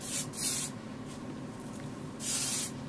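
Hair spray misted onto a lace front wig in short hissing bursts, two quick sprays near the start and a longer one near the end, close and fairly loud over a quiet room.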